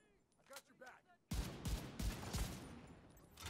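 Rapid gunfire from a weapon in the video game The Division 2, a burst of loud, sharp repeated shots that starts abruptly after a quiet stretch of faint talking and keeps going steadily to the end.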